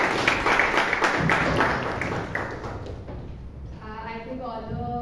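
Audience applause at a Toastmasters club meeting in Bangalore: dense clapping fills the room for about three seconds, then thins out as a voice begins speaking over the fading claps.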